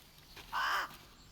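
A single crow caw from the video game South of Midnight, one harsh, fairly loud call lasting about a third of a second over quiet ambient game sound.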